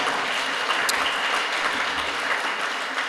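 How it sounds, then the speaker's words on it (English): Steady applause from an audience at a borough president's keynote event, a dense continuous clatter of clapping hands with no voices over it. "Let's give Alex a strong round of applause."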